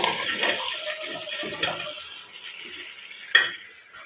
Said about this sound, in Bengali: আর এখানে গরুর মাংসটা ভালো করে কষিয়ে নিচ্ছি।